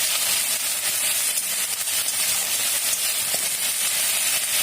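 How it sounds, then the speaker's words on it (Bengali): Ginger frying in hot oil with a pinch of salt, for a bottle gourd and shrimp curry: a steady, even sizzle and hiss that holds throughout with no pauses. "আদাটা একটু ভাজা ভাজা হোক"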